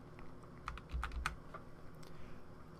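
Computer keyboard arrow keys are pressed in a short cluster of light clicks, a few quick taps close together, against a steady low hum.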